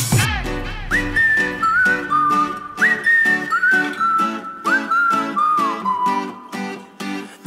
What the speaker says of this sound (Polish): Skąd my znamy te gwizdy?